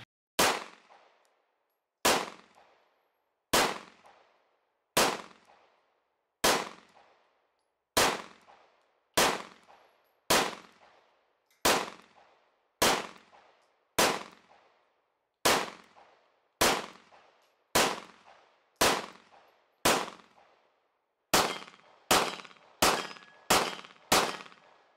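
A suppressed CZ P-01 pistol fires about twenty sharp, close, loud shots, each with a short metallic ring. They come at a steady pace of roughly one per second, and the last few shots are fired in quicker succession.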